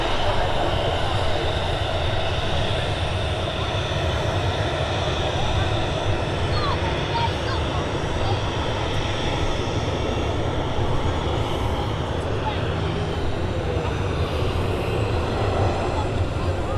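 A Ryanair airliner passes at Manchester Airport as a steady, broad engine roar that holds loud and constant throughout, with people talking over it.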